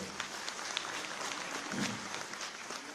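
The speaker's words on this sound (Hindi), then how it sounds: "ताली बजाकर स्वागत करें।" An audience at an appointment letter distribution ceremony claps in welcome, a steady patter of applause that sounds somewhat distant and soft throughout.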